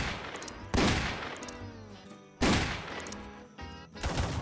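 Gunfire in the Roblox Wild West game: two loud, sharp shot bursts about a second and a half apart, each with a ringing decay, followed by a quieter thump near the end.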